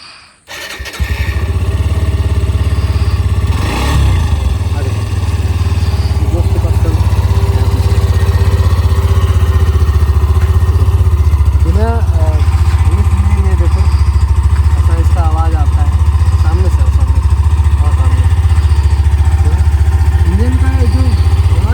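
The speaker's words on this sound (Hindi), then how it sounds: "अब मैं आपको फाइनली इसका इंजन का आवाज़ सुनाता हूँ, ठीक है, इसके एग्जॉस्ट का आवाज़ सुनाता हूँ।" A Xtreme 125R motorcycle engine idles steadily and loudly close by, a deep constant exhaust rumble throughout, with a brief rev swell early on and short bursts of talk over it.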